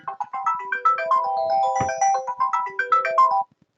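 A phone plays a melodic ringtone, alerting a Red Cross disaster duty officer to an automatic dispatch notification. The short bright tone phrases repeat rapidly and clearly, then stop abruptly, with no voices.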